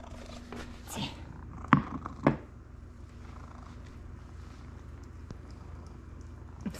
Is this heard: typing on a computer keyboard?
no